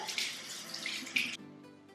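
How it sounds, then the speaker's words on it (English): Cold tap water runs steadily into a sink while someone rinses cleanser off their face, with splashing that stops abruptly partway through, leaving a quiet drip-like tail. "now I will wash up the remainder of the cleanser off my face with cold water"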